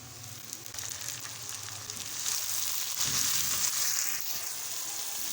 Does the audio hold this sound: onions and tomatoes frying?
yes